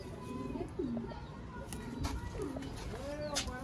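Red-eyed golden Sialkoti pigeons coo in a loft, soft repeated throaty coos close by, with someone speaking over them and a few sharp clicks.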